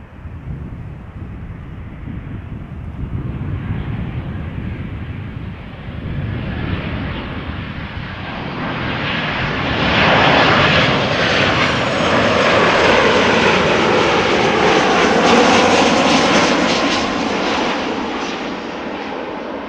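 A Transavia Boeing 737-800, six years old, arriving at Amsterdam Schiphol passes with a swelling jet roar that builds from a distant rumble to a loud, broad whine and slowly eases off.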